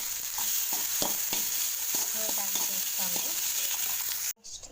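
Masala sizzling and frying in a pan for an Allu side dish, a steady hiss with repeated stirring scrapes throughout, close and fairly loud, cutting off abruptly near the end.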